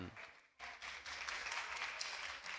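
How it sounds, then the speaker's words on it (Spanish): An audience applauds at a League of Legends esports match, a steady spread of clapping that cuts in abruptly and continues at moderate level, heard at some distance. "¿Por qué la gente está aplaudiendo?"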